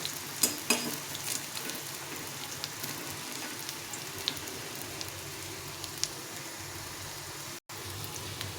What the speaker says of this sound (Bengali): আমি এভাবে উল্টে পাল্টে ভেজে নেব